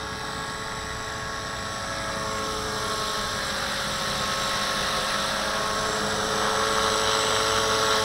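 An electric V450D01 RC helicopter hovers steadily during a gyro autopilot mode test outdoors, its high motor whine and rotor buzz continuous and fairly close, rising slightly in loudness toward the end with no talk.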